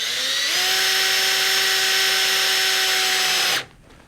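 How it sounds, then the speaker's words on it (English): A cordless drill drives a 1.5-inch Torx screw into material, its motor whining steadily and loudly for about three seconds before cutting off abruptly, close up with no talk. "I can hold the material, keeping my drill straight, and drive it in."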